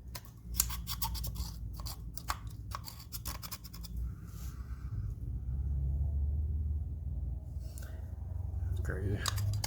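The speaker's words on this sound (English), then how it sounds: "Take a pick, dig that stuff out of there." A metal pick scrapes and digs debris out of a Polaris RZR 800S intake, giving a series of sharp, close scratching clicks in bursts over a low steady hum, with faint talk near the end.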